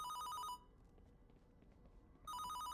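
A telephone ringing inside a haunted-house level of the Fortnite video game, two bursts of electronic bell trills separated by a quiet gap, faint and alone.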